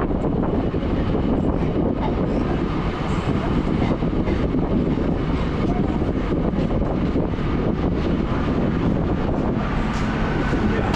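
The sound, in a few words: train arriving at Kanchipuram railway station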